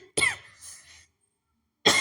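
A single sharp cough rings out close by, trailing into a brief throaty rasp, then silence before another cough begins at the very end.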